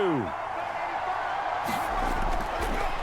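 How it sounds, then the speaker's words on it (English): A simulated stadium crowd roars in Madden NFL 25 during a Browns–Ravens game, a broad steady cheer that swells louder partway through, with a commentator speaking over it. "Well, this crowd into it now"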